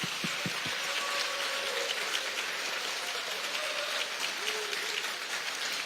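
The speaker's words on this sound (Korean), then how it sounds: "큰 박수 부탁드립니다." A large crowd applauds steadily at a party's election campaign committee closing ceremony, a dense and even wash of clapping that stays constant throughout.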